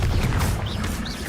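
Confringo fire-blast spell explosion in Hogwarts Legacy, a loud, dense crashing burst that fills the whole moment with sustained roaring energy and no talking.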